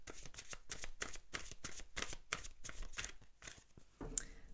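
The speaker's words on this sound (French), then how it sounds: "Alors, je tire une dernière carte." Oracle cards are shuffled by hand in a rapid series of crisp riffling bursts, close and clear, with a single card snapped out at the end and no voices.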